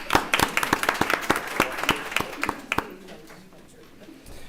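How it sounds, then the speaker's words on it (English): Short round of applause at a board meeting, a small audience clapping in quick distinct claps that taper off within about three seconds into a quiet room. "Let's give them another round of applause."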